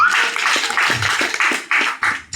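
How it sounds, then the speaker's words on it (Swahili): A church congregation applauding, dense continuous clapping from many hands in short rhythmic swells, loud and close. "Yesu, makofi mazuri."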